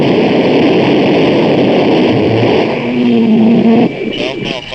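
A roaring X-15 rocket engine ground test run, a dense, loud, continuous blast that holds steady and then shifts abruptly near the end, with a brief tonal whine rising beneath it.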